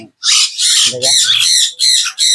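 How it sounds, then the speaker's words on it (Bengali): Golden myna chick giving loud, harsh squawks in quick bursts close to the microphone, one short pause between calls. "এত সুন্দর ময়না পাখি ওয়াই কিন্তু ভয় পাচ্ছে"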